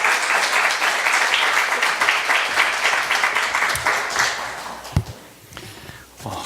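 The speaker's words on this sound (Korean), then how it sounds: "우리 앞으로 나오실 때 환영의 박수로 모시도록 하겠습니다" A church congregation applauds during a Sunday worship service to welcome a visiting pastor from the central church in Kuala Lumpur. The steady clapping fills the hall for about five seconds, then thins out, and a few footsteps and knocks follow as it ends.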